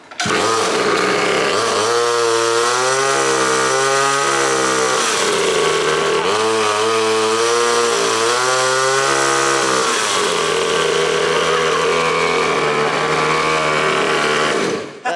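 A turbocharged 50cc two-stroke drift kart engine buzzes loudly and continuously up close, its whiny pitch rising and falling as the throttle is blipped, then settling into a steady drone.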